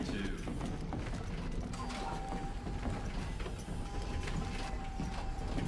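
Whirring, ratcheting mechanical clicks and gear-like rattles from an automatic target acquisition drone in Call of Duty: Infinite Warfare, a busy layered mechanism sound running steadily throughout.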